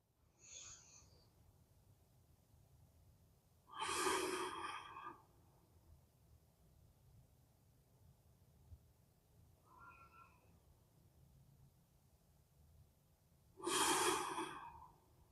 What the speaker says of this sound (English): Give yourself 3 big breaths.